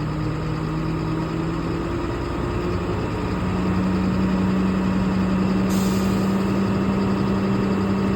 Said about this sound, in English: So I just put my foot on the gas, and I'm gonna rev the engine up a little bit.